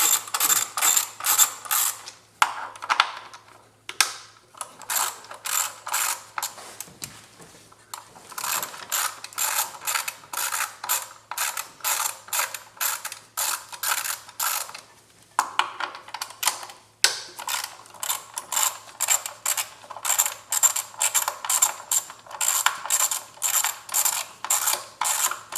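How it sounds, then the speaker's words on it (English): Ratchet with a 10mm socket loosening bolts on a Jeep Grand Cherokee WK V6 during a spark plug change: rapid bursts of close, crisp clicking, repeated in runs with brief pauses, no talking. "with the 10mm socket, you just want to loosen these up."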